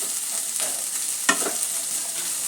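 Boiled potato with salt and roasted cumin powder being stirred in a pan, a soft hiss of frying with a couple of brief scraping strokes.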